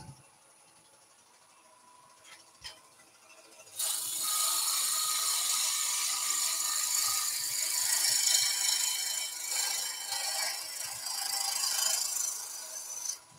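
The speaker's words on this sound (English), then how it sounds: "I'm just going to skim or create a skew cut first with a bowl gouge." A wood lathe spins timber while a bowl gouge takes a skew shear cut, a faint rubbing then a sustained, bright scraping hiss that begins suddenly and continues steadily with slight swells. No talking is heard.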